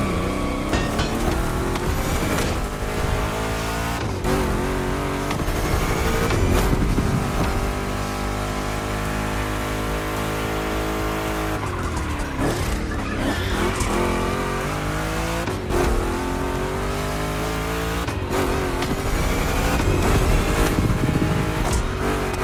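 Two big-block Chevrolet cars race in The Crew Motorfest on a gymkhana course, loud engines revving and shifting continuously with tires squealing and skidding through tight turns across the whole stretch.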